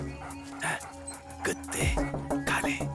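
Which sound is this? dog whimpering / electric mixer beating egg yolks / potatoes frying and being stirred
dog whimpering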